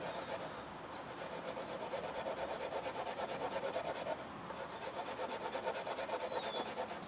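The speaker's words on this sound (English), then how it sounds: "I'm gonna do a test spot here and see what some turtle wax rubbing compound will do to it" A hand works Turtle Wax rubbing compound across a plastic headlight lens in a quick, regular back-and-forth scrubbing rhythm, close and faint, with no voices.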